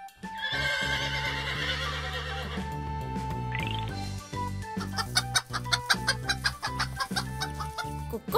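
A hen in a henhouse cackles after laying an egg, with a rapid, rhythmic run of loud clucks over a musical backing. A horse's whinny is heard just before it.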